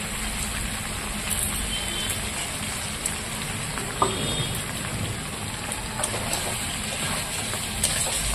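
Chicken curry with fried potatoes being sautéed in a pan, a dense continuous hiss and crackle like rain that holds steady throughout, with a few faint clicks and scrapes.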